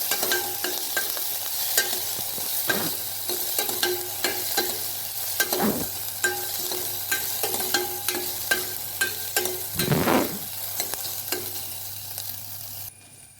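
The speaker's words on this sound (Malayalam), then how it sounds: "എണ്ണ ചൂടായതിന് ശേഷം അതിൽ ശേഷം നമ്മൾ സവാള ഡൈസ് ചെയ്തത് ഇട്ട് കൊടുത്തിട്ട് കുറച്ച് സമയം ഇറക്കി കൊടുക്കുക" Diced onions sauté in hot oil for a vegetable stew, a steady close sizzle broken by scattered clinks and scrapes of a spoon stirring against the pan, with a couple of louder stirring sweeps and no talk.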